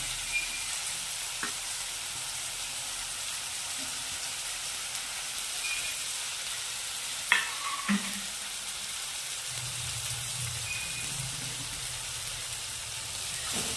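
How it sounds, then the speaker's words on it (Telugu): Tomatoes and onions frying in a pan give an even, close hiss of sizzling with occasional stirring knocks and scrapes. The sound runs throughout and no one speaks. "దాని తర్వాత టమాటాలు వేసుకుందామండి. ఉల్లిగడ్డలు కూడా వేసుకుందాం."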